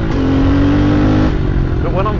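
Small pit bike engine revving while being ridden, a steady buzzing drone with rising pitch toward the end, loud and close under a voice.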